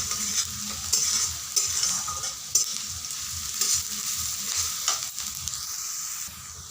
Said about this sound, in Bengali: পেঁয়াজগুলো ততক্ষণ ভাজা হতে থাক